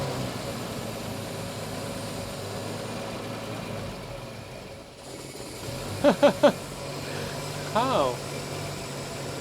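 A 1973 Triumph TR6 engine idles steadily during a tune-up, a constant mid-pitched rumble that dips briefly, with two people speaking over it.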